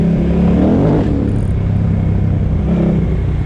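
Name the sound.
KTM 990 adventure motorcycle accelerating with throttle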